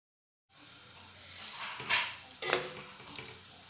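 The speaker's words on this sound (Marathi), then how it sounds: "आता दुसरी पद्धतीने आपण तळू डाळ। डायरेक्ट तेलामध्ये टाकू" Moong dal dropped directly into hot oil gives a soft, even sizzle after a brief silence, with two clearer scraping or stirring clatters in the middle.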